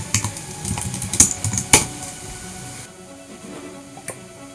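Quick, uneven clicks of a computer keyboard as a password is entered on a Mac, a few sharper key presses up front, then softer taps fading into quiet room tone.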